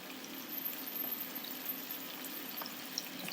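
Mustard oil is poured into an already warm frying pan, giving a soft, continuous liquid wash with a faint low hum beneath and a few small ticks, fairly quiet and without talk.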